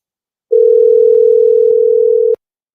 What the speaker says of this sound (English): I'm just testing out my fucking new phone line, y'all.